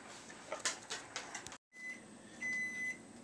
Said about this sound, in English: And the timer just went off.